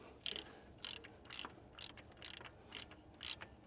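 A hand ratchet turning a 19mm socket on a 1993 Jeep Grand Cherokee ZJ project, giving seven evenly spaced bursts of rapid clicking about half a second apart, close and clear with no voices.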